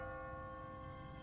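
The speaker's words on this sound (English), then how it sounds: "What kind of church bell goes off at 20 past the hour?" A church bell in The Walking Dead video game rings with a steady, sustained tone. It is faint and heard alone.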